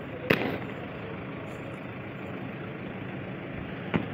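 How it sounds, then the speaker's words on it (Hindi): Gunfire and tear gas shells fired during a crackdown at a bridge over the Sindh river near Haroon village, on the Punjab–KPK border: two sharp, distant bangs several seconds apart over a constant rumbling engine-like background. "बहुत ज़्यादा फायरिंग हो रही है, आंसू गैस के शेल्स फेंके जा रहे हैं।"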